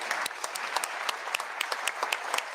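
Applause from an audience at a state of the state address: steady, sharp, fairly close clapping that keeps going without a break and has no talk over it.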